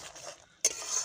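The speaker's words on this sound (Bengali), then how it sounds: "ধনে পাতা কুচিটা আমি একটু বেশি নিয়েছি, তোমরা একটু কম বেশি করে নিতে পারো, নেড়ে দেব।" Small spicy crab curry with plenty of chopped coriander stirred in a pan, giving a soft sizzle and a sudden scraping stir stroke partway through, close and fairly faint, no talking.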